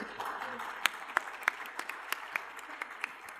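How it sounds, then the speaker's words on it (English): Audience at an investment panel applauding the panelists, a moderate spread of clapping with several sharp, distinct claps standing out near the microphone. "a big round of applause to my panelists"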